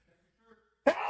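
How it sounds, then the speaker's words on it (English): After near silence and a faint breath, a single loud, abrupt sneeze bursts close to the microphone, then trails off into a short rough exhale. "Well, I gotta sneeze."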